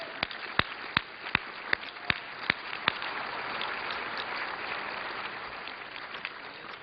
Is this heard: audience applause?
yes